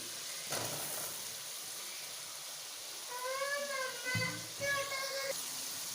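Chicken and pumpkin (or bottle gourd) curry sizzling in a pan, a steady soft frying hiss with brief stirring sounds and a voice in the background.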